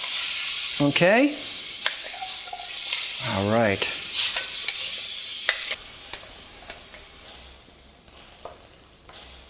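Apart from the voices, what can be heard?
stir-frying broccoli in pan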